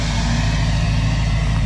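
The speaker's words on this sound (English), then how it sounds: "And the truck is very loud." Loud, steady engine drone from a truck, a low heavy rumble held at constant level for a brief stretch, close by with no talk over it.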